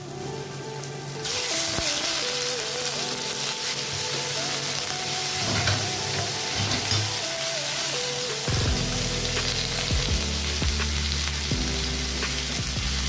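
Chicken pieces sauté in a hot pan for Filipino pochero, a loud continuous sizzle starting abruptly and crackling steadily throughout, with light music underneath.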